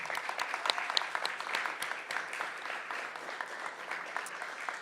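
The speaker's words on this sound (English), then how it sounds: "let's have another round of applause for our sponsors, partners, and supporters" Steady applause from an audience at a capture-the-flag event, dense and continuous for the whole stretch, moderately distant and even in level, with faint voices mixed in beneath the clapping.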